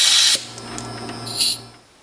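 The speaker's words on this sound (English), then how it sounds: "I'm going to speed up the drying process with my air compressor here." An air compressor blows air into a Slot.it slot car motor in a short, loud hissing burst, followed by a fainter mechanical whir and a second, softer blast before it fades.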